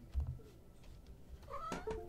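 A pet cat gives a short meow near the end, fairly faint and brief, after some soft low thumps in a quiet room.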